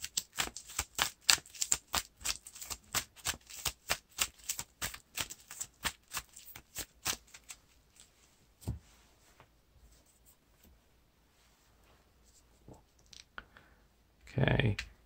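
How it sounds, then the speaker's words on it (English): Cards from a Lord of the Rings card game encounter deck being shuffled, a rapid run of crisp riffling clicks for several seconds, then a few scattered card snaps and a louder brush at the end, with faint talk. "Now we shuffle Gwaihir into the encounter deck."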